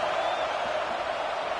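A stadium crowd in the NCAA 26 college football video game roars steadily during a field goal try in a Boise State versus LSU matchup, a dense, continuous wash of cheering that holds at an even level throughout.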